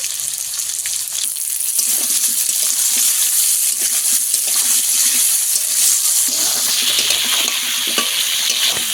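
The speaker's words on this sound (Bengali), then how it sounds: "আলু আর পেঁয়াজ আমি একসঙ্গে কিছুক্ষণ ভেজে নেব" Potatoes and onions fry together in a pan with a steady, close sizzle, while a utensil stirs and scrapes through them. There is no talking.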